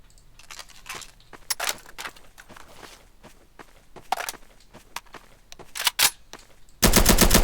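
Footsteps and scattered clicks of a video game character moving around, then an RPK machine gun erupts in a loud, rapid burst of automatic fire at the very end.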